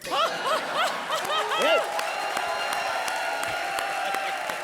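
Comedy show audience clapping and laughing, a dense patter of applause with chuckles under a man's speech, near and moderately loud.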